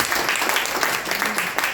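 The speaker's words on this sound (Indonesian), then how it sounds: "Kasih tepuk tangan buat Tuhan Yesus." Church congregation at a Sunday worship service applauding together, a dense, steady burst of clapping that fills the room for a couple of seconds.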